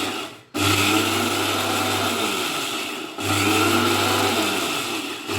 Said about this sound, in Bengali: এই যে এইটাকে আবার বাটবো, লাগিয়ে নিলাম মেশিনটা